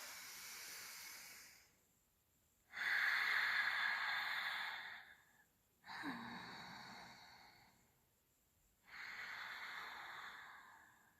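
Three-part ujjayi yoga breathing: long, hissing breaths drawn and released through the throat. Three distinct breaths, each lasting a few seconds, are separated by quiet pauses, close and intimate, with no talking.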